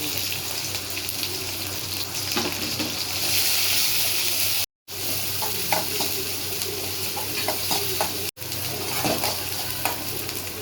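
Chopped onions and curry leaves hit hot oil with cumin in a pan for a drumstick curry, giving a loud, close sizzle and crackle while a spoon stirs and scrapes, with two abrupt brief cuts.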